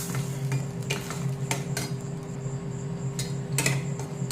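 Cashews are stirred in a pan with a utensil while cooking a paneer white curry, giving soft, irregular scraping and clinking knocks over a steady low hum.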